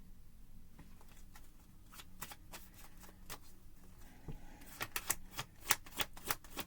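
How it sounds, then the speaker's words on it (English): Tarot cards being shuffled and drawn for a spread, a quiet run of crisp card flicks and slaps that grows louder and faster toward the end, close to the microphone. "Let's get one more card for the spread."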